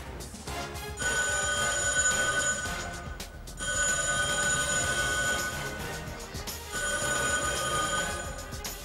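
A telephone bell rings in three long bursts separated by short pauses, loud, insistent and close, with no talking over it.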